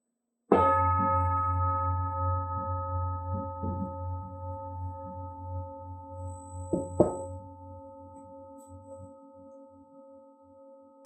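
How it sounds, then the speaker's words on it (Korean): Bell struck to open a lecture: one loud clear strike that rings on with a long, slowly fading hum, then a second softer strike partway through the decay. "오늘도 한번 여러분들의 영성의 마음을 좀 깨우는 이런 종소리를 제가 좀 들려드리면서 시작하도록 하겠습니다"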